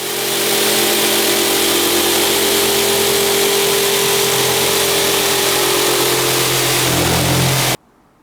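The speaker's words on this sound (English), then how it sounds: "I've got my shop vac so I can regularly clean them up" A shop vac runs outdoors sucking up expanded polystyrene bits, a loud steady motor roar and whoosh held throughout before cutting off abruptly at the end.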